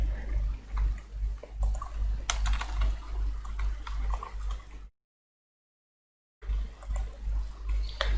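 Keys clatter on a computer keyboard in quick, uneven bursts of close clicks, with a short stretch of complete silence partway through.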